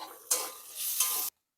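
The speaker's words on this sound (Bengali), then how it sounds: "দেখুন কাঁঠাল দানাগুলো অনেকটা ভাজা হয়ে গেছে।" Jackfruit seeds frying in hot oil, two bursts of loud close sizzling with stirring scrapes, then abrupt silence.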